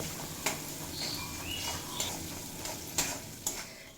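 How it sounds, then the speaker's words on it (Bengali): Ginger and tomato fry down in a pan with chili powder, a soft continuous sizzle broken by a few sharp spatula taps against the metal at regular intervals, no voices. "খুব ভালোভাবে ভেজে কষিয়ে নেব যাতে টমেটো বেশ ভালোভাবে নরম হয়ে যায়"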